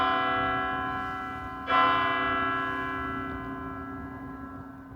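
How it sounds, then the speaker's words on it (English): Church bells ring steadily with sustained, layered tones, a fresh strike swelling the sound partway through before it slowly decays, with no one talking. "church bells stop ringing"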